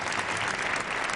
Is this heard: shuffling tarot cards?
no